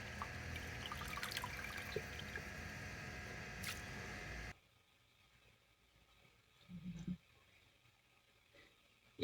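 Water runs steadily and loudly while a goat's large intestine is rinsed, then the flow stops and quieter splashing and handling follow.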